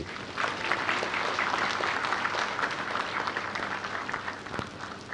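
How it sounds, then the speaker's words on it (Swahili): Sustained, dense applause from an audience honouring Ugandan President Yoweri Kaguta Museveni at a Tanzania–Uganda business forum, steady clapping filling the whole stretch with no talk over it. "niombe tumpigie makofi Mheshimiwa Rais"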